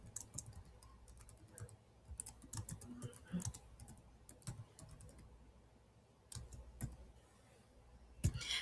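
Computer keyboard typing while entering text into a Padlet, with irregular bursts of soft clicking keystrokes heard close up, separated by brief pauses.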